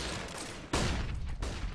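Counter-Strike gunfire on the Cache map: a short, dense burst of shots cuts in sharply midway and keeps going until the clip ends, over a constant game noise bed.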